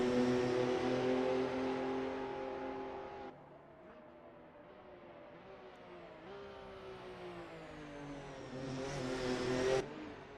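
A GT500 race car weaving on the Suzuka circuit to warm its tyres, its engine droning loud and steady, dropping off abruptly, then rising again through changing revs before a final loud surge and cut.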